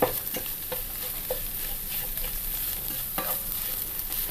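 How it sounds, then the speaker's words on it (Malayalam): Egg bonda masala filling of onion, masala and yolk is stirred in a pan, giving a steady sizzling hiss punctuated by soft, regular spatula scrapes and taps. "നന്നായിട്ടൊന്ന് മിക്സ് ചെയ്യണം. ഈ മസാലയും സവാളയും അതുപോലെ ഈ മഞ്ഞ ഭാഗം എല്ലാം കൂടെ നന്നായിട്ട് യോജിക്കണം."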